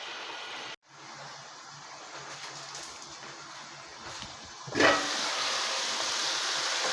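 Tomato and eggs cooking in a covered pan with a little water, a steady close hiss and sizzle that briefly cuts out, then swells louder and brighter as it carries on.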